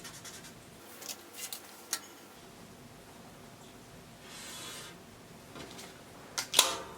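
Marking fabric for a pair of women's trousers gives faint scratchy strokes and soft rustles, sparse and quiet against a low background, with a sharper tap or two near the end and no talking.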